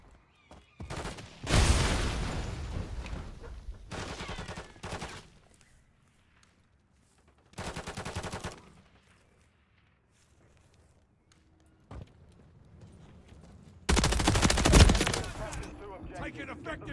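Bursts of automatic gunfire in the Modern Warfare 3 video game, several loud volleys separated by quiet gaps, with game radio chatter in between.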